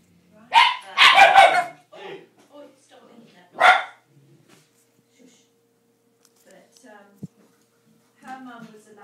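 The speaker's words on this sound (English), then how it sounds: "Both these dogs." Dogs, Labradoodle crosses, let out a few sharp barks in close bursts early on, then go quiet apart from faint yips and small sounds near the end.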